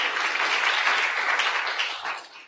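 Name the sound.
applause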